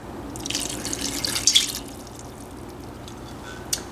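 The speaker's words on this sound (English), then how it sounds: "So now into this pan we are just going to add a ½ cup of water." Half a cup of water poured into a cooking pan for cactus berries, a brief splashy trickle lasting under two seconds, with a faint drip afterward in a quiet kitchen.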